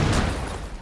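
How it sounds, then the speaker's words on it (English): Burst of gunfire in the tactical shooter Rainbow Six Siege, a loud, dense rattle at the start that rolls off into a fading rumble within a second. "Stop firing."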